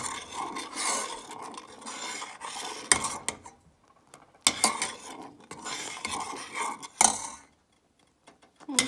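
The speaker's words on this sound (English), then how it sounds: "you're just going to keep whisking it until it gets nice and thick" A whisk scrapes and rattles against a metal pan while thickening a cheese sauce, coming in uneven bursts of brisk rubbing and clinking separated by brief silent pauses.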